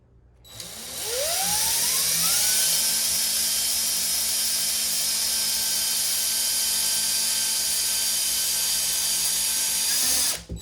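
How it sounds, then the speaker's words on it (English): A power drill bores a screw hole through a wooden cabinet while a toilet paper holder is being mounted, spinning up with a rising whine, then holding a loud, steady high-pitched drone for about nine seconds before stopping. "now I'm going to get the second hole drilled through"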